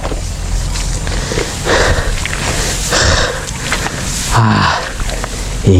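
Heavy, breathy panting from a worker spraying a rice paddy, rough exhales repeating roughly every second, close and fairly loud over steady outdoor noise.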